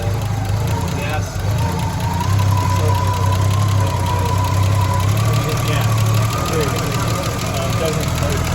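A 1974 Triumph TR6 engine idles unevenly with a faulty choke linkage, its steady low rumble broken by a few popping backfires and a sharp burst near the start.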